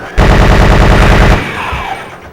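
A Gatling gun in Resident Evil 3: Nemesis fires at a hunter, a loud, fast, evenly spaced rattle of shots for just over a second before it cuts off.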